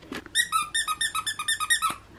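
A squeaky dog toy gives about a dozen quick, high-pitched squeaks in a fast, fairly even rhythm, loud and close, with no talking over it.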